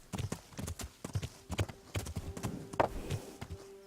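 Horse hooves clip-clop in a steady, fairly close rhythm while riding in the medieval video game Kingdom Come: Deliverance, with a brief louder thump near the middle.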